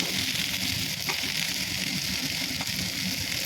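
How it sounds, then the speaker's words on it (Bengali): Boiled soybeans are stirred in a hot frying pan with cumin, giving a steady, even sizzle with faint scraping that runs unbroken throughout. "এবারে সয়াবিন সেদ্ধটা দিয়ে দিলাম, তারপর নাড়তে থাকলাম।"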